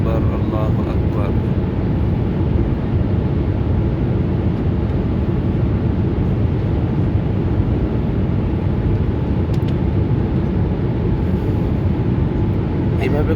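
Inside an airliner climbing past 30,000 feet toward a 41,000-foot cruise, a loud, steady engine and airflow roar fills the cabin without a break.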